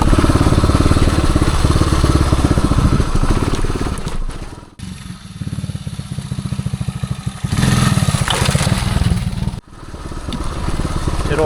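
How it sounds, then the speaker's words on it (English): A 1978 Suzuki DR370 motorcycle crawls uphill in second gear on a woods trail, its engine chugging loud and close with a steady throbbing pulse that dips briefly twice before surging back. "Second gear crawling up this"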